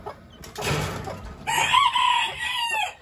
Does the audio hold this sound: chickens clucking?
yes